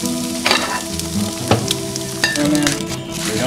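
Strips from a whole package of bacon sizzle and crackle in a frying pan, a steady loud fry with sharper pops and spits breaking through now and then.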